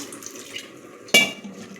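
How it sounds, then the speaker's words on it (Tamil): Water trickles and splashes steadily into a metal pot of chopped elephant foot yam for boiling, with a sudden louder clank and gush partway through. "இப்போ இதுக்கு தேவையான தண்ணி ஊற்றி வேக வச்சுக்குவோம்"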